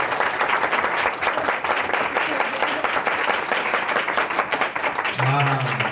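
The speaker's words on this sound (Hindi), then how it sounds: "जोर से ताली बजाया परमेश्वर के लिए" A church congregation claps loudly in praise, a dense, continuous burst of many hands that holds steady throughout, with a voice rising over the clapping near the end.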